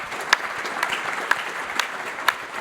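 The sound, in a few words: audience applause for the panellists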